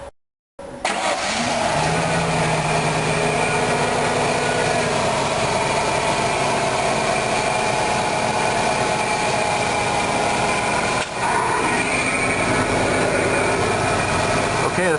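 A 1995 Ford F-150 truck engine cranks and catches, freshly refilled after an oil and filter change, then idles loud and steady at close range for over ten seconds.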